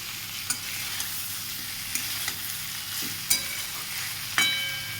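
Tomatoes and potatoes fry softly in a pan while a spoon stirs them, bringing a steady low sizzle broken by several sharp scrapes and clinks from the stirring, with no voices.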